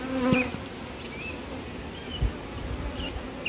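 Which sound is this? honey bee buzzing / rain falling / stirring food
honey bee buzzing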